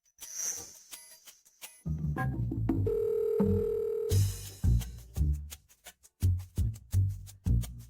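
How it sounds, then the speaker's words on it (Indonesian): A steady telephone tone sounds for about a second, followed by what looks like soft rhythmic tones or background music with short bursts around it, fairly quiet overall. "Telepon Gu Xiaoyu dan Xiao Chun. Kenapa tidak bisa dihubungi ya?"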